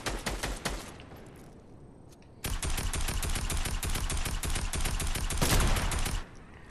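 Rapid automatic gunfire in Fortnite rattles out in dense, continuous bursts, loud and close, with a brief lull before a long sustained stream of shots that cuts off near the end.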